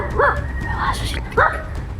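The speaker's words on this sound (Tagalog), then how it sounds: "May aso sila." A dog barks twice in quick yelping bursts, close and loud, with a whimpering tone between them over a low background rumble.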